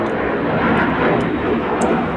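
An airplane flies overhead outdoors, a steady broadband engine roar holding loud and constant throughout with no voices.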